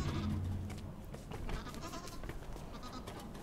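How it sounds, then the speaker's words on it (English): Goats bleating in the puzzle video game Creaks, a nasal bleat at the start followed by a low, steady ambient bed with faint scattered noises. "Alright, get out of here, goats."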